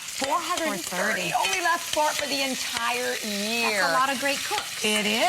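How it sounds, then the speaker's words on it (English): Food sizzles and gets stirred on a triple burner, a continuous crackling hiss with scraping stirs, running under two people chatting throughout. "That is the sound of a sizzle."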